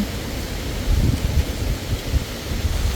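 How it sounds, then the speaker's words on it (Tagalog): Strong wind buffets the microphone in a steady low rumble, gusting harder at moments, with no voices present. "Lakas ng hangin."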